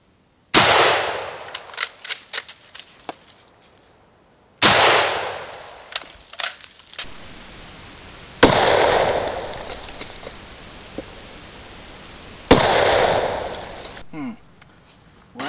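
Rifle shots fired at an inkjet printer outdoors: two sharp, loud cracks, each followed by rattling debris and echo, then stretches of steady hiss and a final burst of clatter.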